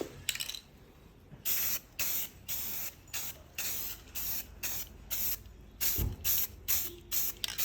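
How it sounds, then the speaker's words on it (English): Primer sprays from an aerosol can onto a stripped part from a 1971 Monte Carlo SS454, heard as a rapid series of short hissing bursts separated by brief pauses, close and fairly loud. "I'm gonna go ahead and shoot some primer on it"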